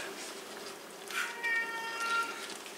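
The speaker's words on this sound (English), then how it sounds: "Can you hear my kitty?" A pet cat meows softly a few times in a kitchen where chili is being made, brief faint mews rising at the middle and near the end over a quiet background.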